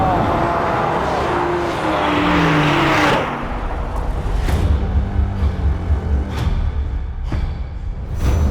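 An Aston Martin DBS Superleggera and a Mercedes-AMG GT R drag race, loud engine roar building then dropping off, followed by a string of sharp passing whooshes close by.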